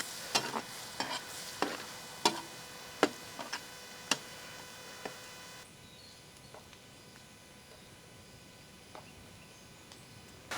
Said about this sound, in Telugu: సన్నగా తరిగిన ఇవే ఉల్లిపాయ ముక్కల్ని బ్రౌనిష్ షేడ్ వచ్చేంత వరకు నూనెలో ఇలాగే వేపుదాం